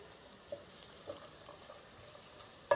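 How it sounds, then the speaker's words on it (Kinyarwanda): Carrots and green beans being fried and stirred in a pan, giving a faint, steady sizzle broken by a few soft utensil clicks, with the loudest click at the very end. "Dukomeze tubikaranga tubivanga."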